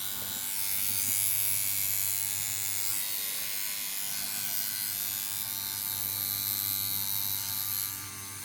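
A Jackhammer rotary tattoo machine runs steadily with a continuous close electric buzz and hum, holding level for several seconds before easing slightly at the end.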